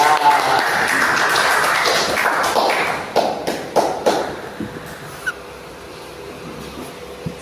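A class claps for a classmate, dense applause that is fairly loud at first, then thins into scattered individual claps and fades out after about five seconds, with faint talk underneath.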